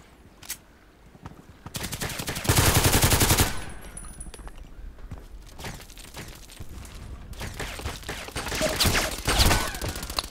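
Gunfire rattles in the ADXsniper shooter game, a loud burst of rapid automatic shots followed by quieter, sustained firing and a few more bursts toward the end, with no talking.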